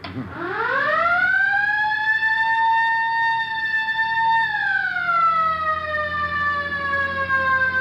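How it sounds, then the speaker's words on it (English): A police siren wails up to a high, steady pitch, holds, then slides lower. Loud and close, with nothing else audible. "hit the siren"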